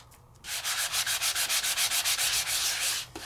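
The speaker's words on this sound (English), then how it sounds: "I literally just sanded it" Sandpaper rubbed briskly over a die-cut paper craft piece gives about a dozen rapid, even back-and-forth rasping strokes, close and steady, with no voices.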